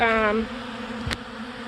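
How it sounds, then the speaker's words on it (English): Bees buzz steadily nearby while feeding from a 5-gallon bucket pollen feeder, a brief higher whine fading early, with one short knock partway through. "the bees don't have a problem feeding out of a 5-gallon bucket"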